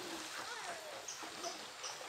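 The Como Hacemos river in Cristóbal Colón flows steadily in a soft, continuous wash, with a few light splashes in the background and faint voices at a distance.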